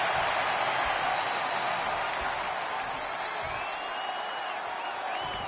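A wrestling arena crowd in WWE 2K24 roars in a steady, loud, dense wash of cheering that holds throughout, with faint whistles rising above it.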